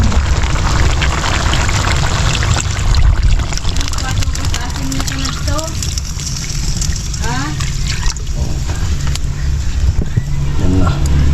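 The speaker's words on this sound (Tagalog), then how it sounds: "Lagyan ko na ng sabaw," Water poured into a cooking pot of fish seasoned with fish sauce and tomatoes, a steady splashing wash over the whole stretch with a voice talking over it.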